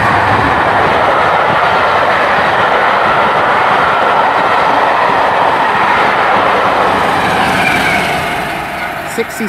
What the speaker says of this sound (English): That's a rail tour from London Victoria to Bath Star. That'll be passing platform 1.